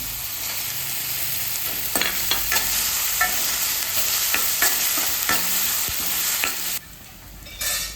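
Okra curry sautés in a pan with three slit green chilies: a loud, continuous sizzle with scattered stirring knocks, briefly dropping quieter near the end before picking up again.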